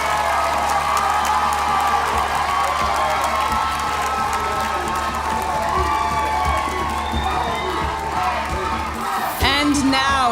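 At the Mister Supranational 2025 final show, a large crowd cheers, whoops and applauds departing candidates in a sustained roar. Near the end, a voice and music cut in over it.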